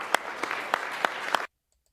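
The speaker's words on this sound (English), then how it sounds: "it's pretty disgusting to hear clapping during that" Audience applause during a political speech, a steady patter of clapping with a few sharper, louder claps standing out, cutting off abruptly into silence.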